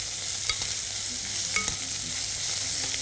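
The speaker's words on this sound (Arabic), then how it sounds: "هننزل اللحمة المفرومة، نشوحها كده مع بعض" Minced meat with grated zucchini and carrots sautéed in a pan, a steady sizzle with a few sharp utensil scrapes and stirring knocks, fairly close, no talking.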